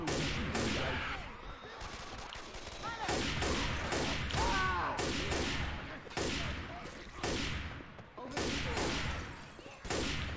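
Gunfire in Left 4 Dead 2 comes as repeated bursts of loud shots in an irregular rhythm. Voices and game noise sit in the gaps between the volleys.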